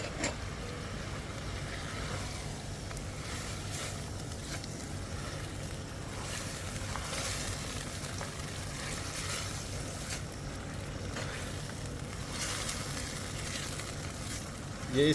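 Mutton karahi fries in a wok after half a cup of oil is added, giving a steady, moderately loud bubbling sizzle that holds evenly throughout with faint occasional stirring.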